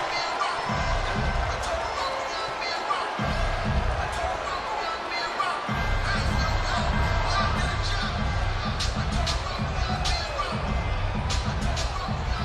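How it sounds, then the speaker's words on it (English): A large crowd roars and cheers continuously at a boxing weigh-in, a dense wall of noise with sharp claps and shouts, while a commentator talks over it throughout. "right now he is drinking in what is a lot of adulation from this crowd"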